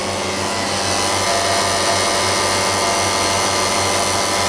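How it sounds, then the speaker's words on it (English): A single refrigeration compressor runs steadily nearby, a constant loud mechanical hum with a faint pulsing throb underneath and no talk. "it's just the one compressor running"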